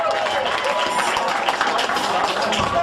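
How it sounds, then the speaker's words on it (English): Audience applause at a rock concert in a small venue, a short burst of steady clapping and cheering from a nearby crowd. "Can we have a round of applause for John?"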